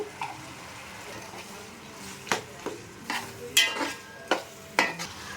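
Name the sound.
stirring tomatoes with salt and turmeric in a pan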